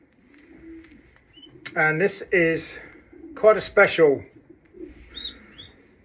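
Young single-reared pigeon cooing in soft, throaty bursts, close and clear, alternating with a person speaking nearby.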